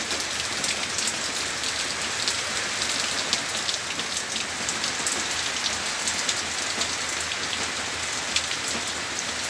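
Steady rain falls on rice paddies, a dense continuous hiss of drops on water and plants, even and close with no pauses and no voices.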